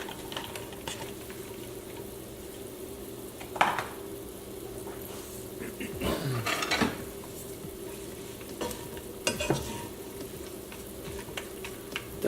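Snow peas frying in oil in a pan, with a steady close sizzle running throughout and a few louder stirring scrapes and clatters now and then.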